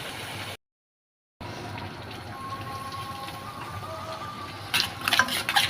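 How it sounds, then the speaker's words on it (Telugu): Meat haleem with tomato simmers in a pot, giving a soft, steady bubbling hiss with one brief dropout. The bubbling grows louder and more agitated near the end. "ఇక్కడైతే ఉడుకుతున్నది."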